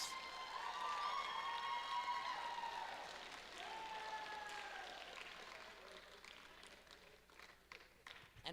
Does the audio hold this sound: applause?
yes